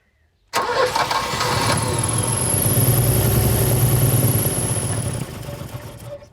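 An old barn-find BMW engine, unused for 30 years, cranks and catches, then roars into a loud, rising rev before settling back slightly near the end.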